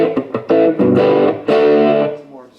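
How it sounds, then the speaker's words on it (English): Electric guitar played through a Johnson J-Station amp-modelling unit with heavy distortion, ringing chords and picked notes in loud bursts with brief gaps, sustaining and fading at the end. "some more distortion kicks in"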